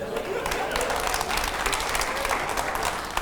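A studio audience at a televised interview breaks into loud, sustained applause, a dense wash of clapping that stays steady throughout and sounds close and full.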